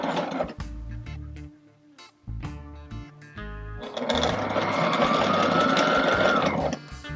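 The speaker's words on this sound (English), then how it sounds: "I just sewed this that little flap together" A Sailrite sewing machine stitches a hatch cover flap in short bursts, motor whirring and needle thumping in stop-start runs, then a longer steady stretch of rapid stitching close by.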